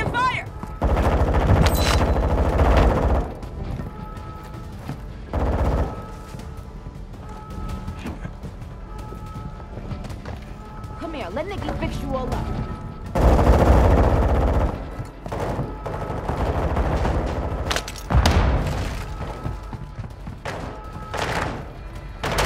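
Gunfire in the video game Call of Duty Modern Warfare Warzone DMZ: loud bursts of automatic fire and heavy shots come in repeated volleys separated by short lulls, with thuds and game effects in between.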